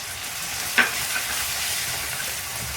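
Spices such as turmeric, ground coriander, salt and chillies sizzle in oil in a frying pan for a potato and fenugreek dish, a steady close hiss with one sharp clink of a stirring spoon.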